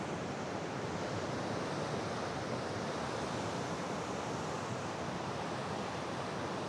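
Ocean surf breaks steadily on the beach at Jaco, Costa Rica, at sunset, a continuous loud wash of waves with no lulls and some wind across the microphone, and no voices.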